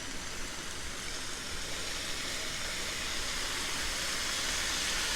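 Reduced-sodium soy sauce hits a hot pan of cabbage and sausage for egg roll in a bowl, giving a steady, soft steaming hiss that holds evenly throughout, fairly faint and with no voices.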